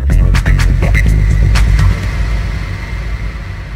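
Electronic music with a throbbing low beat, then a reverb effect from a Hercules Inpulse T7 DJ controller swelling and slowly trailing off into a fading tail after the beats stop.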